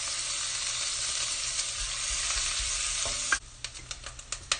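Soaked dried shrimp stir-fried in a wok for a seafood thick soup give a steady loud sizzle that abruptly drops off near the end, followed by several sharp clicks and scrapes of a spatula against the metal.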